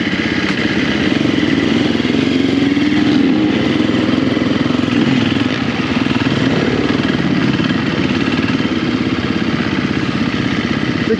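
A KTM 350 motorcycle engine runs continuously and loudly up close, a rough, clattering mid-pitched drone that holds steady throughout with slight rev variation.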